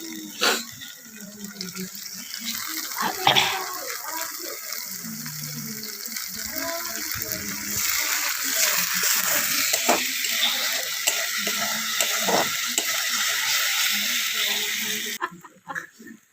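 Potato curry (alur dom) frying in oil in a home kitchen on a winter night, a steady broadband sizzle running throughout with occasional clinks and knocks, fairly close, ending with a brief drop.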